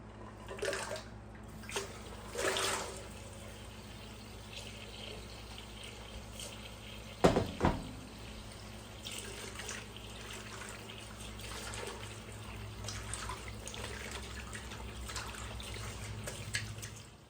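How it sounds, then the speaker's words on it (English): Cold water running from a kitchen tap into a sink, a steady soft splashing stream with a few clinks and knocks early on and a sharper bump midway, fairly quiet and continuous. "I'm going to come over here to my sink, and I'm actually filling it up with cold water right now"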